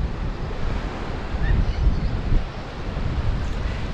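Surf breaks and washes up Newton Beach at Porthcawl in a continuous roar, with wind buffeting the microphone and swelling surges of water, loud and close with no talk.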